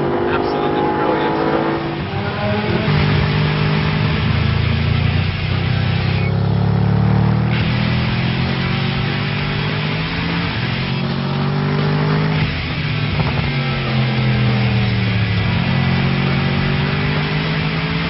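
A Mercedes SLS AMG GT engine revs loudly and steadily close by, its pitch rising and falling in sweeping waves, while someone talks over it throughout.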